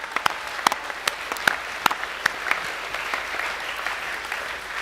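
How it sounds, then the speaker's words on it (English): Students at a school academic assembly applaud the music and art departments, with sparse, sharp individual claps up close over a softer spread of hall-wide clapping that thins toward the end. "Can we give all those departments a round of applause,"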